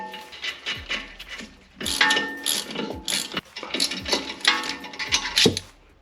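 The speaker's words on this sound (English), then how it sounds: "So that's all the nuts and bolts fastened." Ratchet wrench clicking in quick bursts while nuts and bolts are fastened on a cheap, neglected luxury SUV, several separate runs of sharp metallic pawl clicks close by with short pauses between, no talk.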